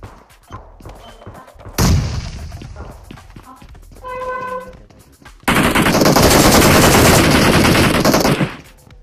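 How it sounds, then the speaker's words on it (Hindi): A DP28 machine gun in PUBG Mobile fires a long, loud, sustained burst after scattered earlier shots and game noises, with a voice faintly under parts of it. "DP28 का जो नॉन एडीएस वाला शॉट है वो काफी एक्यूरेट होता है इस रेंज के अंदर"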